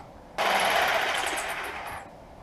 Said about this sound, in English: I could maybe use the jigsaw on that part right there.